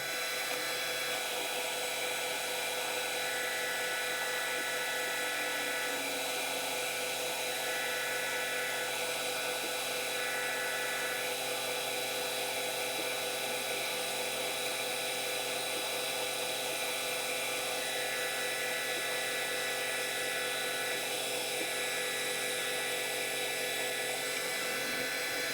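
A homemade boring bar cuts metal with coolant running, giving a steady high-pitched whine that is close and constant throughout, with no voices.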